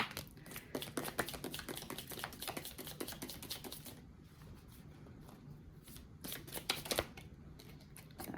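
Quiet riffling and shuffling of oracle cards, a continuous soft papery flutter with a few sharper snaps, heard close and fairly faint.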